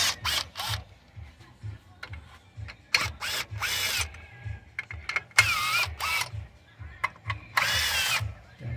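A power tool on 8mm intake manifold bolts of a Mazda MPV 3.0 minivan, with several short whirring bursts separated by pauses and a low engine-like hum pulsing underneath.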